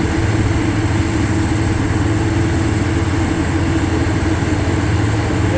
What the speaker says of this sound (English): that processing machine throws a big old pile up out there